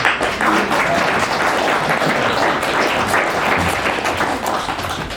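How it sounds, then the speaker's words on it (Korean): An audience at a book concert claps in a steady, even burst of applause that holds at a constant level for several seconds, close and full. "박수 한번 쳐주시죠."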